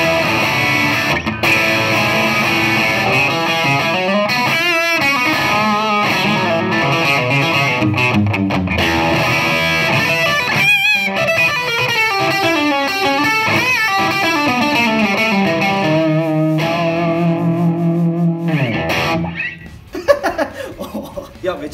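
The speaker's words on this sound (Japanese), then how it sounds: "歪みは歪み はね、これはリアピックアップで弾いたんですけど" A distorted electric guitar played through the rear pickup rings out in sustained chords and melodic lines, loud and close, with a short burst of laughter near the end.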